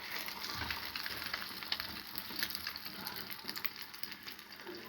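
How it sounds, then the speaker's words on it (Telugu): Chicken sticks deep frying in hot oil, a fairly faint but steady bubbling sizzle with scattered crackles and pops throughout, and no talking. "ఆయిల్ వేడెక్కాక డీప్ ఫ్రై చేసుకోవాలి"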